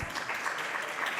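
Audience applause at a startup pitch competition, a dense, steady clatter of many hands clapping at close range throughout, with no voices over it.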